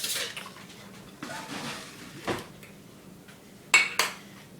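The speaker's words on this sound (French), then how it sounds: "Je vais te sortir une cuillère." Cutlery clattering in a kitchen drawer as a spoon is pulled out, a few light metallic clinks and rattles spread out, with a louder clatter near the end, close and moderately quiet.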